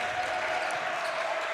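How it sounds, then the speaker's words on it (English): Student section crowd at a boys' high school basketball game cheering and applauding steadily throughout, a dense continuous roar of voices and clapping filling the gym. "a bunch of them are down there in the student section cheering them on right now"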